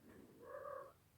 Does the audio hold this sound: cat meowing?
yes